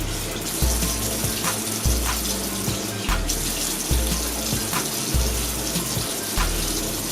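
Water runs steadily from a faucet into a sink while someone wets their head, a continuous close splashing rush with a few brief interruptions.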